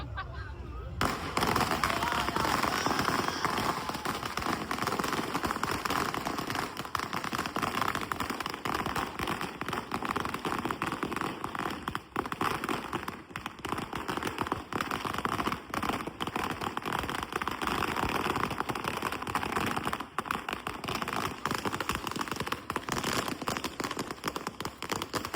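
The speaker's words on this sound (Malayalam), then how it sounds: "ഇപ്പൊ വലിയ വെടിയാണ്." Big fireworks at a Ganesh festival in Kasaragod explode in a dense, continuous barrage of loud bursts and crackling, going on without a break for the whole stretch.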